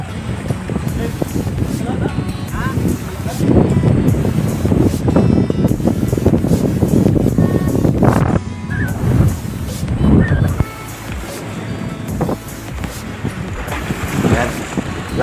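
Strong northeast monsoon wind roars across a shoreline fishing spot, buffeting the microphone in loud continuous gusts with surf in the background, with occasional talk.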